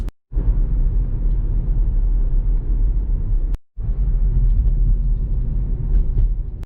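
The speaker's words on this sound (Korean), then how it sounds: "과연 118D의 가속 실체감하는 정도는 어떤지 이제 말씀을 드리겠습니다" A BMW 118d with a 150-horsepower diesel engine accelerates, heard from inside as a loud, steady low rumble that holds nearly unbroken, apart from a brief cut near the start and another at the midpoint.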